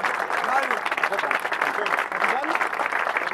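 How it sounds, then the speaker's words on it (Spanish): Steady applause from a crowd at a youth sports games awards ceremony, dense and continuous throughout, with voices mixed in underneath. "Ahí está el aplauso a los chicos."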